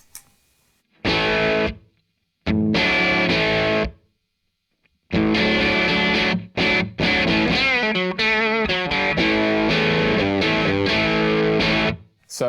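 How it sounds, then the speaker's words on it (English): Electric guitar played through a Red Witch Pentavocal Tremolo pedal set as a boost into a 65 Amps Soho amplifier, loud distorted chords and riffs in several bursts separated by short silences. "you can hear that it's really driving the front end of that amplifier and getting some really nice distortion"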